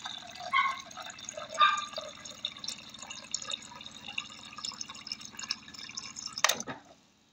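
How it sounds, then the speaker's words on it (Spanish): A small water dispenser pump runs with a faint low hum while water trickles and drips into a container, ending in a short sharp clack. "Se escucha el ruido. Ahí está dispensando el agua."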